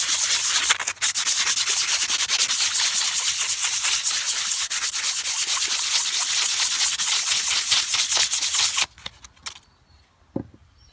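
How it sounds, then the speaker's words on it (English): Sandpaper rubs steadily back and forth over a clear-coated rock, a continuous close scratchy rasp for about nine seconds before it stops abruptly, leaving a few faint small knocks. "The sandpaper will smooth off the existing coat and make a nice flat surface for the new coat to stick to."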